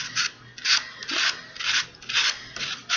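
A sanding block rubs over a pair of cosplay headphones in repeated back-and-forth strokes, about seven rasping passes with short pauses between them, close and clear with no talking.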